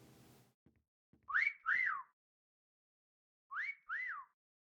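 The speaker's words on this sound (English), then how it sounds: "I heard a whistle, but I don't know how close it was." Two-note rising-falling whistles in the video game Meccha Chameleon, sounded as a close pair of calls and then repeated a couple of seconds later, clear and alone after a brief bit of faint noise.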